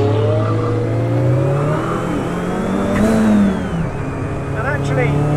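The Kimera EVO37 Group B restomod runs with a loud engine whose pitch rises and falls through revving and acceleration, and it sounds close throughout.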